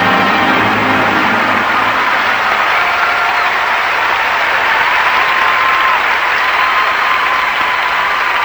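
Loud, dense applause fills the arena as a figure skating crowd in Buffalo cheers Midori Ito, a continuous roar of clapping with faint crowd murmur underneath and no break throughout.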